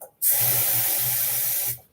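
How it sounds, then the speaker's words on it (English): Running tap water pours onto a Declaration Grooming B5 shaving brush in a steady, loud hiss that starts abruptly and stops just as sharply less than two seconds later. "let's get him in some water because his tips do like to absorb the water and get soft"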